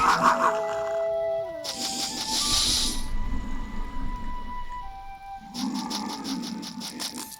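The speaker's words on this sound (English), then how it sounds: "I get a little laugh out of the weird noises the wolves make when we attack them" Wolves in the roguelike game Tales of Maj'Eyal give several angry, growly, dog-like cries in bursts during combat, fairly loud and alone with no talk, separated by short pauses.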